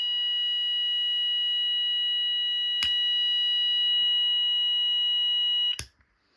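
Fire alarm detector sounding during a weekly test, a loud, steady high-pitched electronic tone held for several seconds, broken by two sharp clicks before cutting off.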